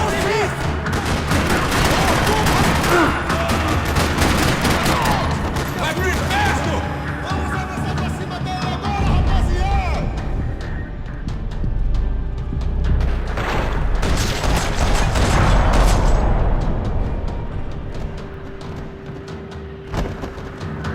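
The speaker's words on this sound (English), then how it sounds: "Another parking lot rattling with gunfire." Rapid bursts of gunfire in a parking lot in Max Payne 3 rattle continuously, with heavy booms and crashes mixed in and a voice occasionally audible beneath the chaotic shooting.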